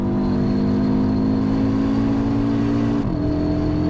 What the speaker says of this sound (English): Here, the exhaust note has become that much louder.